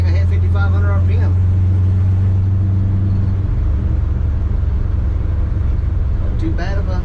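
A 1966 Chevy C10 engine fitted with a PerTronix ignition box runs loud and steady with a deep low drone, its pitch shifting midway as the revs change, while occasional voices are heard over it.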